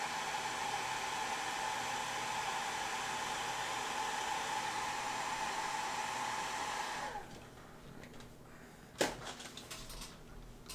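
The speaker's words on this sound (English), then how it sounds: "I'm blow drying." Hair dryer blowing in a steady, loud, close whoosh for about seven seconds before switching off, followed by quiet handling clatter and a sharp knock.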